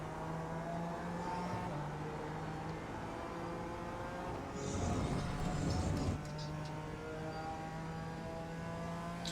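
BMW M4 GT4 race car in iRacing at Donington, engine droning steadily at high revs, then a rougher burst of gear changes and throttle before pulling hard again; loud and continuous, no voices.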